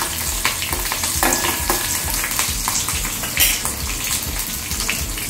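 Chopped green chillies being stirred into a sizzling pan mixture for nylon khaman, a steady crackle of frying with scraping stir strokes, close and continuous with no voices.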